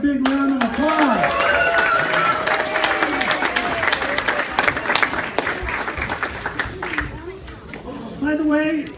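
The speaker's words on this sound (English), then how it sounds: "let's give them one more big round of applause." An audience at a church missionary book-readers event applauds in a dense, sustained patter of clapping, with a loud voice talking over it and the clapping tapering near the end.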